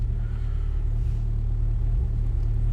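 A Citroen ZX engine idles steadily after winter storage, a smooth, constant low rumble with even harmonic tones, close and continuous throughout without talk.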